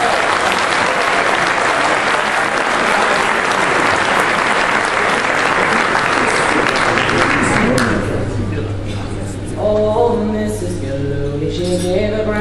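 An audience gives loud, dense applause for a singer who is a current All-Ireland champion, lasting about eight seconds before fading as a voice begins singing or speaking.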